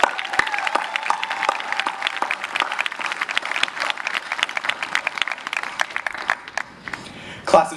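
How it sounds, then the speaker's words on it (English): Applause for the class of 2021 at a QGHS high school graduation ceremony, a moderate crowd clapping steadily with crisp individual claps audible, fading slightly near the end before a brief louder burst. "a round of applause for the class of 2021"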